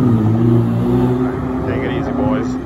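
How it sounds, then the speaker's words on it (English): Ferrari cars move along a street in Turin, a steady engine and traffic hum filling the scene at moderate loudness, with people talking nearby over the vehicle noise. "Look at them driving in Ferraris."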